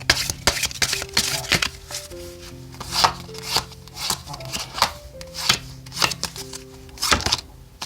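Oracle cards shuffled by hand for a tarot reading, a steady run of crisp riffling and rubbing strokes close up, with soft background tones and no talking.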